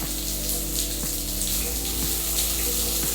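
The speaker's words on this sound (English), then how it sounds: "It's just draining out the basin right now." Water drains steadily out of the overhead basin of a rain shower, a continuous close rush and splash of falling water with faint dripping and no voices.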